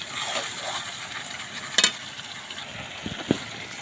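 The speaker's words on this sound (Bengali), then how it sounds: "মাংসটা মাঝে মাঝে হালকা করে নিচ থেকে ওপরে নেড়ে দিচ্ছি, যাতে মাংসটা তলায় লেগে না যায়" Chicken frying in a pan, stirred slowly from the bottom up: a steady sizzle with a few scraping clinks of the spoon against the pan, close and fairly loud, no speech.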